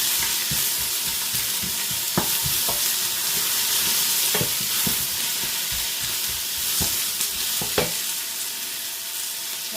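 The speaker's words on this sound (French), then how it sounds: "je fais revenir mes oignons comme ça, de façon à ce qu'ils soient légèrement dorés" Three onions sizzling and being stirred in a pan for tartiflette, a steady close frying hiss with repeated scraping stirs and utensil knocks throughout, no talking.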